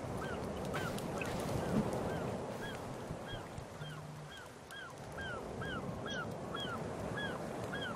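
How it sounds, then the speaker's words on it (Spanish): Birds in the video game The Forest give repeated honking, goose-like calls in a steady series over a soft ambient backdrop. No one speaks. "¡Ay, pinches aves! ¡Dejen de hacer eso!"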